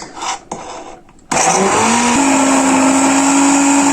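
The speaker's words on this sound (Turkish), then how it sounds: "Şurada mikserimle Biraz çırpacağım arkadaşlar" After a few quiet clicks and rustles, a hand mixer whirs on loudly, blending roasted red pepper soup, and runs with a steady, close motor drone while its pitch settles.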